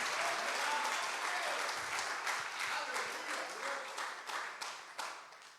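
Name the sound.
congregation applauding in church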